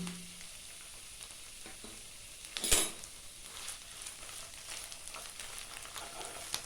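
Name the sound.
stirring spinach shukto in a pan with oil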